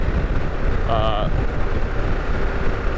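Steady, loud broadband wind rush buffets the microphone while riding a Harley-Davidson Pan America motorcycle on the road, a constant roar with a brief faint tonal squeal in the middle.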